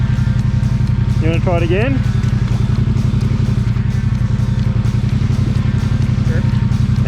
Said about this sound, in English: you rev it, I'll use the clutch.